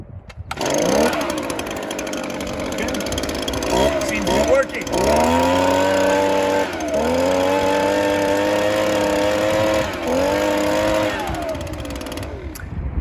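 An Echo handheld leaf blower's small two-stroke engine starts and runs loud and close, its pitch rising and dipping as the throttle varies for several seconds before cutting off.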